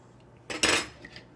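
A spoon stirring colorant into melted melt-and-pour soap makes a single brief metallic clink and scrape against a container, close and crisp, with two faint taps after.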